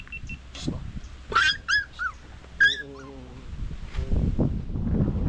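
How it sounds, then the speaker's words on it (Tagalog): Dog whimpering and yipping outdoors during a tomato harvest, several short high whines in a row and then broadband rustling noise, with no talk over it. "Aso na yun."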